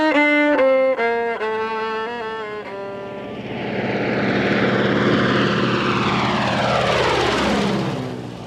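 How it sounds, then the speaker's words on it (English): A propeller aircraft drones overhead, its roar rising and sweeping downward in pitch as it passes. A few sustained fiddle notes play at the start before the engine noise takes over and fades. "Half an hour later, you can be right back here in an aircraft"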